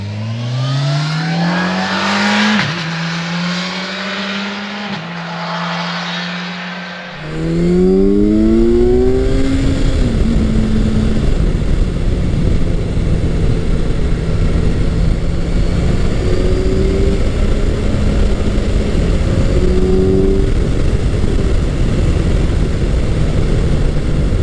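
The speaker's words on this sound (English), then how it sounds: "I am currently riding Kawasaki's Ninja 1000 SX" A Kawasaki Ninja 1000SX motorcycle ridden on the road, engine revving up through several gears with rising whines, then a loud steady wind roar at speed as the revs climb and shift.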